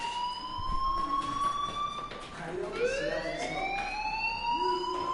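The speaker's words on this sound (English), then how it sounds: "Hey, do you hear that fire alarm?" A fire alarm in a video game wails continuously, a loud electronic siren-like tone sweeping up and down with steady harmonics, dominating the scene.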